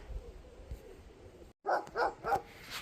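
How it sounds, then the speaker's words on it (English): A large German Shepherd guard dog at a fort converted into a private residence barks three times in a steady rhythm after a brief silence, heard at a moderate distance over faint outdoor background noise. "it's been converted into private residence with a barking dog. He's a guard dog. German Shepherd"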